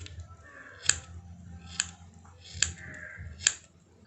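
Four crisp scissor snips land at roughly even intervals while hair is trimmed along a comb in a home haircut, each cut sharp and close over a quiet low background hum.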